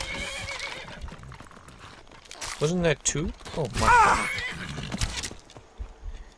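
A horse in Skyrim whinnies loudly twice amid game-like clatter and hoof sounds, while a person talks excitedly over it.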